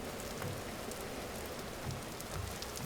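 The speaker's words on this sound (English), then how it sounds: "It's raining right here." Steady rain falling in the Vintage Story video game, an even wash of hiss with faint patter throughout and no talking.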